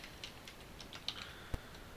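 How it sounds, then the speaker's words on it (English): Faint, sparse keystrokes on a computer keyboard, a handful of light clicks and taps spread unevenly over two seconds against quiet background hiss. "All we have to do is type username"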